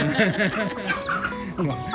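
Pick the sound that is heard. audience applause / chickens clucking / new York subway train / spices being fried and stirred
chickens clucking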